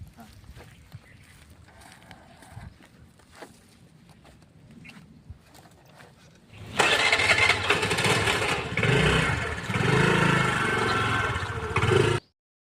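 A Honda Activa scooter starts up and its engine runs loud and close for several seconds, after a quieter stretch with faint talk and background noise, then cuts off abruptly.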